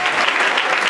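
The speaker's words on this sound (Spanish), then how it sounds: "Denle un buen aplauso al Señor." A church congregation applauds, a dense burst of clapping from many hands in a large room, loud and continuous throughout.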